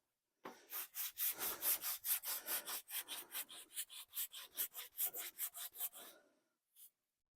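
Sandpaper worked by hand over the clear coat on a 1976 Monarch, a close, brisk run of about two dozen rhythmic rasping strokes back and forth, then a pause and one final short stroke.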